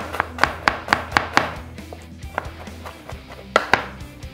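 Garlic being chopped with a knife on a board, a quick run of sharp close knocks followed by a pause and a few more spaced chops.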